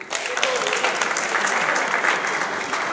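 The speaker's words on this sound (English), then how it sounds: "Let's clap hands for them." An audience claps steadily for about three seconds at a community gathering, a dense, even wash of many hands that holds at a constant level from start to finish.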